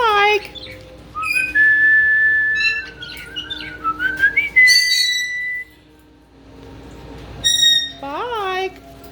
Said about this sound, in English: That's Spike whistling.